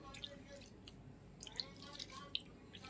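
Water trickles and drips into chapati dough in a kitchen: a quiet stretch of small, scattered wet splashes and drips, close and soft, with no talking.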